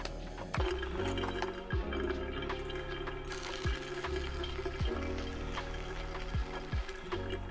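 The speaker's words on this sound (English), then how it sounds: "Water is boiling." Water boils in a Jetboil camping stove, a soft steady bubbling and rattling with repeated faint ticks, quiet and close with no talking.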